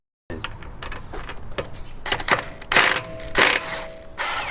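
Snap-on power tool working suspension bolts loose on a Range Rover Evoque with failed suspension, giving close mechanical ratcheting clatter in repeated loud bursts.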